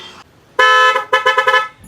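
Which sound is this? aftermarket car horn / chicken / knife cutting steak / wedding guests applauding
aftermarket car horn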